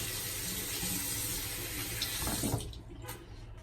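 A faucet runs steadily into a sink to rinse shaving soap, a close, constant splashing rush that cuts off near the end and leaves faint drips and clinks.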